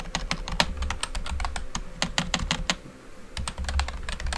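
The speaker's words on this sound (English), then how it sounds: "I'll just type it in." Clicky bursts of typing on a computer keyboard, quick uneven keystrokes close by with a short pause in the middle before more rapid tapping resumes.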